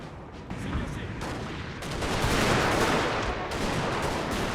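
Massed musket volleys and cannon fire from a Napoleon Total War battle, a dense continuous crackle of distant gunfire that swells louder partway through, with faint talk mixed in.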